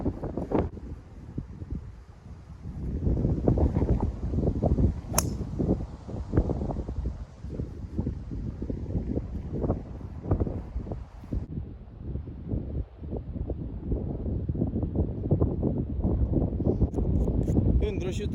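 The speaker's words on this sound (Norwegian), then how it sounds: "Kraftig motvind." Strong headwind blowing across an open golf links, a steady broadband wind rush buffeting the microphone at fairly high level for the whole stretch, with no speech.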